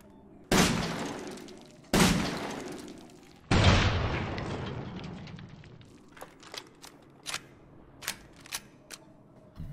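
Three heavy, ringing gunshots from a drum-magazine weapon in Resident Evil Village, each decaying slowly, followed by a series of lighter clicks and mechanical clatter.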